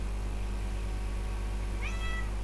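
A single short cat meow near the end, moderately faint over a steady low hum.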